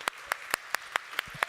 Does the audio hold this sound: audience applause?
yes